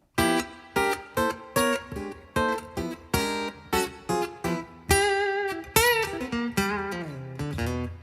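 Electric guitar notes and strummed chords ring out one after another, each tail blooming into a spacious reverb wash; no talking.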